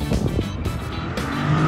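Corvette race car in a GT3-style racing video game, its engine roaring steadily and loudly throughout with brief tire squeal, no talk over it.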